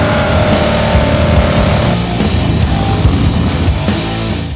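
Turbocharged American V-twin motorcycle engine revving loudly and steadily nearby, a sustained throaty drone whose pitch and tone shift partway through.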